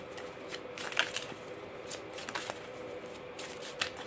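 Tarot cards being shuffled and drawn by hand, a series of soft riffling and sliding card sounds at close range, with a few sharper snaps, no voices.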